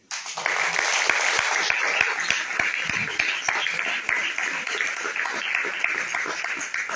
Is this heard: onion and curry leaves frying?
no